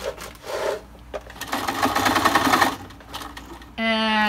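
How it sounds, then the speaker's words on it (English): A sewing machine stitches a fabric mask in quick rattling bursts with short pauses between runs. A steady higher hum takes over at the very end. "So I'm just going to continue sewing."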